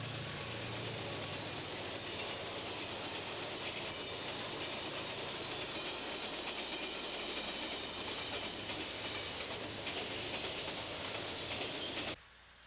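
A streamliner passenger train running on rails, a steady rumble and clatter of wheels with hissing, continuous and fairly close, cutting off abruptly at the end.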